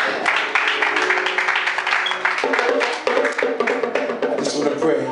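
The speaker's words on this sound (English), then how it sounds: "Come on, clap your hands." A church congregation clapping their hands during worship at a service with a pastor: dense, rapid rhythmic claps that fill the room continuously, with voices mixed in.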